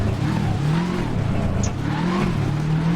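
A Subaru WRX rally car with a blown head gasket in Richard Burns Rally drones steadily through the gears, its engine rising and falling in pitch, loud and continuous, with faint talk underneath.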